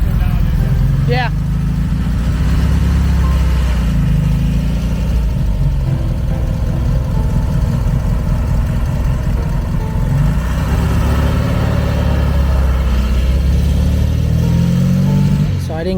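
Air-cooled engine of a 1974 VW Thing on a drive, a loud steady idle rising and falling with revs, sounding under people talking.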